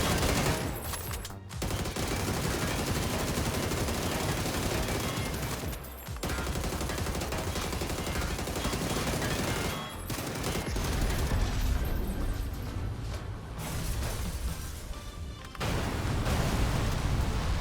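In the PUBG video game, sustained automatic gunfire pours into an armored vehicle in dense, loud bursts with a few short pauses between volleys.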